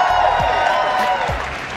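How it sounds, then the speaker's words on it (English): Audience applause with a few cheers for a child and his parents at a live gathering, a dense steady wash of clapping that stays loud throughout the short stretch. "Give them a big round of applause."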